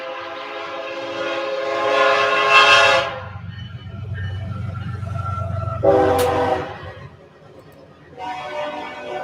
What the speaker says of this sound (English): I have a train coming